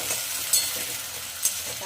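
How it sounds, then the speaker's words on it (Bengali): Potato pieces fry in hot oil in a pan with a continuous close sizzle, and two brief sharp scrapes of stirring break through the steady crackle. "আলুটাকে প্রথমে আমি একটু ভেজে তুলে নেব।"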